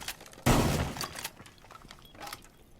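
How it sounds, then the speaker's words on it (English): A single heavy shotgun blast in Rainbow Six Siege on the Oregon map, fired at a kitchen ceiling area, booms loud and close, then fades into quieter in-game movement and small thuds. "you're going to shoot shotgun holes"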